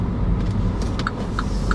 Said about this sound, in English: I wish y'all could see this traffic.